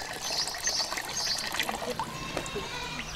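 Water runs from a tap in the middle of a courtyard in a desert village near an oasis, a steady trickling and splashing flow at close range with faint background sounds and no talk.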